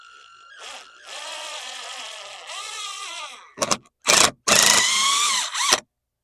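A power driver whines as it runs Phillips head screws in to fix a light mounting bracket: one long run, then several short bursts, ending in silence.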